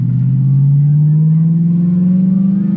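An Audi R8 with a gated manual gearbox pulling away, its engine heard from inside as a loud, close low hum rising gradually in pitch throughout, with no other sounds.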